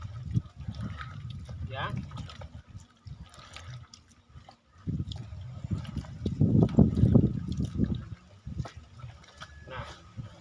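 Wet sweet potato fermented feed mix being stirred, with squelchy, sloshing bursts of the wet mash between pauses as a voice talks over it.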